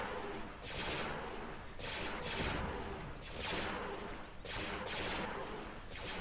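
Starship weapons fire in repeated heavy bursts during a space battle in the Thrawn's Revenge: Imperial Civil War strategy game, loud overlapping volleys with a steady roar of combat underneath.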